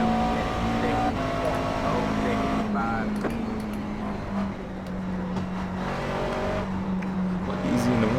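A race car engine in the iRacing sim hums and revs steadily at high pitch, with gear and throttle shifts changing the tone and faint tire noise, while someone talks over it.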